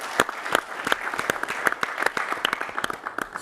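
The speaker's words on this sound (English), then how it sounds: "Then let us provide a final applause before closing" Final round of applause from a conference audience closing a session at a monetary policy research forum, sparse, distinct hand claps from a modest crowd, uneven in rhythm and moderately close.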